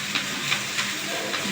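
Chopped onions and chilies sizzle in hot soybean oil in a pan, giving a steady moderate hiss with faint, irregular little pops and crackles throughout.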